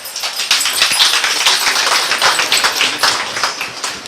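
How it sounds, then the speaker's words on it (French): Applause rolls continuously from a crowd at a prize distribution ceremony in Cameroon, a dense, steady patter of many hands clapping at moderate loudness with no pauses. "et je vous en prie, sous vos applaudissements"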